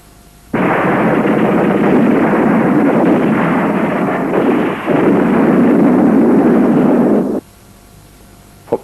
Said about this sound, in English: the Nigerian army calls in for airstrikes